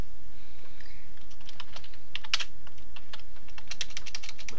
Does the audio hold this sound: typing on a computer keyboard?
yes